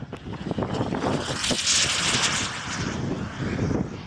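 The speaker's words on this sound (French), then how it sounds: "là c'est un jet qui vole habituellement à Creully" A jet flies fast and low overhead in an aerobatic display near Creully, a loud continuous roar swelling to a broad rushing peak mid-pass and then easing, with wind buffeting the microphone.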